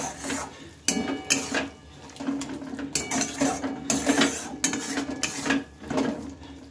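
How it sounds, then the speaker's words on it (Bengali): Fried beans being stirred with spices in a metal pan, a spoon scraping and clanking against the pan in steady repeated strokes, close and fairly loud. "ভালোভাবে মশলার সাথে শিমগুলোকে আমি মিশিয়ে নেব"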